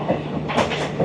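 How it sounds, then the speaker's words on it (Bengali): A short, loud burst of rolling clatter from the Howrah Balurghat Express passing in the rain, with rhythmic wheel knocks over a constant low rumble. "এটা হচ্ছে হাওড়া বালুরঘাট এক্সপ্রেস।"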